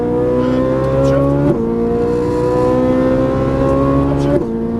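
A Ferrari 458 accelerates at full throttle on a race track, a loud, steady high-pitched engine wail climbing in pitch with two quick upshifts breaking the rise.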